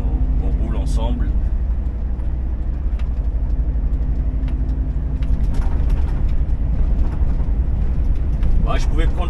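A car drives along the road with a steady, close, low engine and road rumble that never lets up, while someone talks over it.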